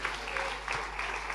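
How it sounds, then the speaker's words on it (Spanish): A congregation claps in praise during a Spanish-language evangelical church service, a short burst of steady applause with a faint hum underneath. "Fuerte ese aplauso de alabanza al Señor."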